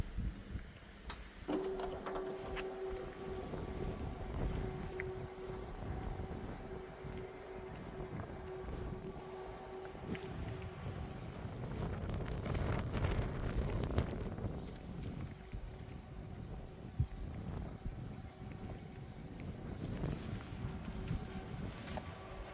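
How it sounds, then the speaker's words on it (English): Wind blowing steadily across the microphone outdoors while a caravan awning is set up, a continuous rumbling gust with a faint mechanical hum in the first half and a few light knocks. "I'm just mindful of the wind here"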